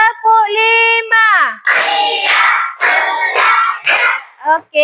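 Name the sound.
class clapping to the teacher's count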